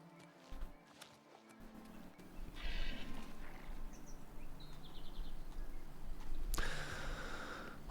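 A horse in Oblivion Remastered snorts and shuffles nearby, with soft hoof movement and a brief whinny-like burst over steady ambient outdoor game sound.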